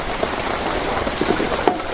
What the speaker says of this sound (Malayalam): അടിപൊളി മഴയാണ് കേട്ടോ